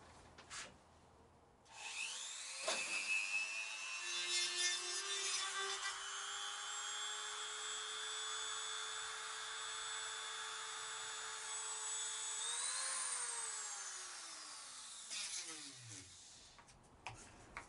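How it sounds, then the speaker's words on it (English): Dremel rotary tool fitted with a small stone attachment cutting plastic trim while fitting heated grips to a motorcycle, a close, loud, sustained high-pitched whine that rises slightly in pitch, then winds down at the end. "So the Dremel's ready to go. I've put this little stone attachment on it."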